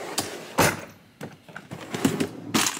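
A heavy drawer on a tool chest slides open with several rough thuds and rattles, loud and close, with no talk over it.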